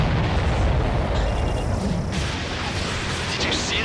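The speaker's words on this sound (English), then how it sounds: "Did you see that explosion?" Rumbling explosion in a combat flight video game, a broad low boom rolling on for several seconds with steady loud noise and no clear separate blasts.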